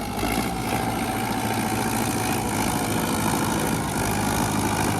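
A Sonalika 60 DI 4x4 tractor engine (4812cc) idles steadily and close by, a continuous low rumble with a rattling throb that never changes for several seconds; no one speaks.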